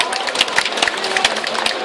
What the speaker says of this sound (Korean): 변희재 대표님 박수 부탁드립니다.